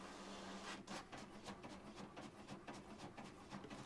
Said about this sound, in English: I got this printer in my room that is managing to print